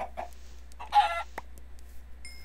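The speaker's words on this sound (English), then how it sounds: "Hello, chicken." A Minecraft chicken gives a few short, soft clucks near a village watchtower, quiet and sparse, with faint game sounds and a brief chime near the end.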